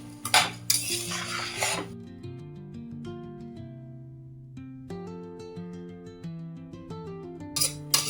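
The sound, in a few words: rice being sautéed and stirred in a pan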